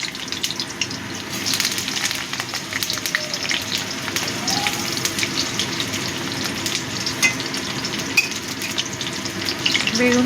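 Eggplant chunks fry in a pan for a Bengali dudh sukto, giving a steady, close sizzle with crackling oil throughout and no voices.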